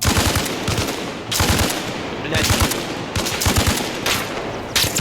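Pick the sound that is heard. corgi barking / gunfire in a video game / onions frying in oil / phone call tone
gunfire in a video game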